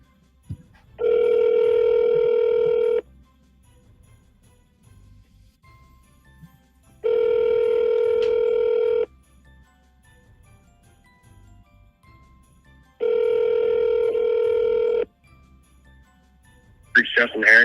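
Three long, evenly spaced ringback tones of an outgoing telephone call sound clearly in a quiet room, each lasting about two seconds, before a voice begins at the end.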